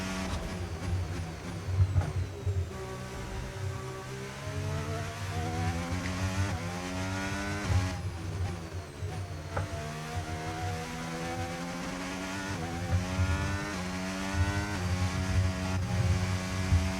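Formula 1 race cars in F1 25 racing, a continuous high-pitched engine whine with rising and falling pitch as gears shift and cars close in on one another, steady and close throughout.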